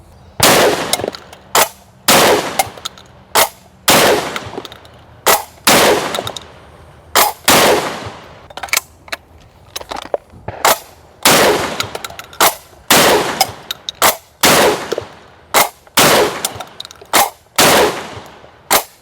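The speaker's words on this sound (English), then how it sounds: "so now we're shooting 6 shot. These are 1 1/8 ounce, which is 32 gram." A Çelik Arms Buck Master Gen 2 M shotgun fires 1 1/8 ounce (32 gram) number 6 shot loads in a fast string of about twenty loud, sharp blasts at close range, each one followed by a short decay.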